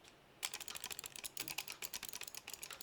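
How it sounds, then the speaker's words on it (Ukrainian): Rapid, crisp clicking close to the microphone, a quick irregular run of small taps that continues steadily without any speech. "В порівнянні з кліканням мишки"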